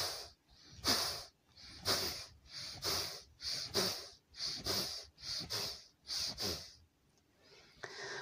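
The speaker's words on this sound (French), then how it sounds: "n'hésitez pas à rendre sonore votre respiration" Kapalabhati yoga breathing is heard up close as a steady series of about ten forceful, hissing nasal exhalations at a medium rhythm, each a sharp puff with a brief pause between.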